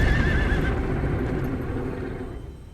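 A horse in The Legend of Zelda: Breath of the Wild gives a loud, close whinny with hoof clip-clop beneath, fading slowly away.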